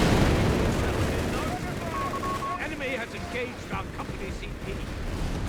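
In a Company of Heroes 3 match, bazooka rounds strike a Panzer IV amid rumbling explosions and scattered gunfire, a dense battle din running beneath a commentator's continuous talk.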